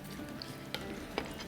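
Food for an Iftar chaat fries in a pan until crispy: a steady, moderate sizzle and crackle close by, broken by two brief knocks as the pieces are turned.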